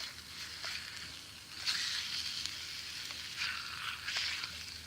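Bacon for bush beans and rice sizzles and crackles in a pan, a faint, steady frying hiss with small pops and a few louder surges, as if stirred.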